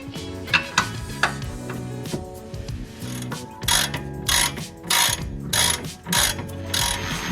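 A ratchet clicks in quick bursts, stopping and starting, as it loosens the 17 mm bolt holding the rear shock on a Mazdaspeed 3. The clicks are close and crisp, with no talk over them.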